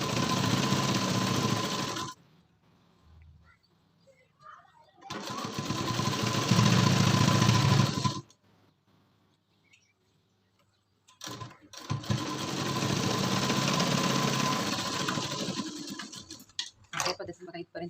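Sewing machine running in three long bursts of steady stitching along a boat neck blouse neckline, with pauses between runs and brief clicks near the end; a voice speaks during the quiet gaps.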